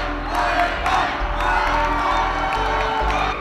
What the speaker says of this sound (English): received what they deserved, a standing ovation from a crowd loaded with fans